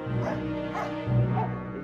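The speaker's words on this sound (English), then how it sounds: "Is that your dog?" A dog barks and whimpers at close range in a western film scene, with two bursts of yapping and whining separated by a short pause, under a low steady background.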